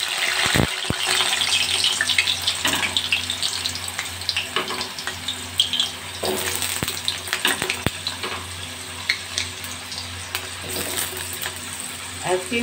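Potato pieces fry in hot oil in a kadai, seasoned with a pinch of salt and turmeric, giving a steady close sizzle with clinks and scrapes of stirring throughout.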